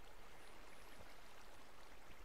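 A wall of flowing water in the block-building game Minecraft, a steady faint rushing wash with no breaks, alone without voices.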